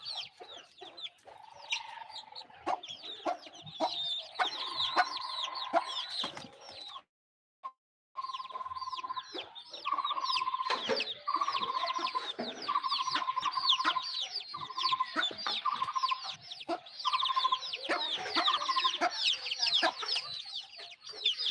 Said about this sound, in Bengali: দেখেন আমাদের মুরগি